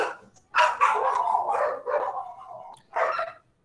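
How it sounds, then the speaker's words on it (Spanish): Several dogs bark and yip in a close, loud burst of overlapping calls, a pause, then one more short bark at the end. "Olha os cachorros, olha os dog."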